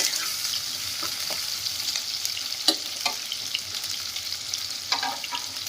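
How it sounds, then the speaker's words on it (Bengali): Chopped medium tomato tipped into onions frying in a pan for a chicken liver dish, a bright continuous sizzle with a few soft stirring knocks, no voices. "এবার অ্যাড করে দিচ্ছি ছোট ছোট করে কেটে রাখা টমেটো"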